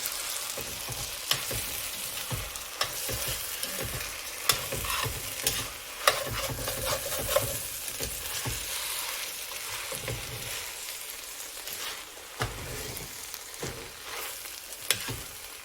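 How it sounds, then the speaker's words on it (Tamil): Soaked, washed basmati rice stirred and fried in a pan with ghee and oil for plain birinji rice, giving a steady close sizzle broken by repeated scraping strokes of a spoon, with no talking. "கழுவி ஊற வச்ச பாஸ்மதி ரைஸை இப்போ சேர்த்துக்கலாம். நல்லா மிக்ஸ் பண்ணிடலாம்."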